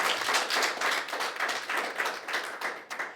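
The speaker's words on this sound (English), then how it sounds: "So a round of applause" Audience applause at a fundraising draw for a retro VW camper, a dense, loud burst of many hands clapping continuously in an indoor room.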